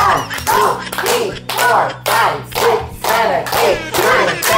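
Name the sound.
party guests applauding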